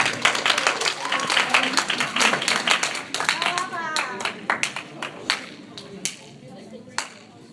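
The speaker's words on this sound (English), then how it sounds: "Let's give Iman a round of applause." A church youth group audience claps to welcome Iman, with lively uneven clapping that thins into a few sharp scattered claps while voices talk nearby.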